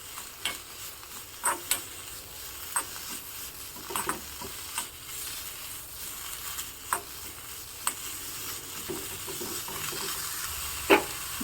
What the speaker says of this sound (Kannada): ಇದನ್ನಿವಾಗ ಚೆನ್ನಾಗಿ ಎಣ್ಣೆಯಲ್ಲಿ ಹುರ್ಕೋಬೇಕು